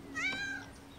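A cartoon cat lets out a single short, rising meow nearby, fairly soft against a quiet room.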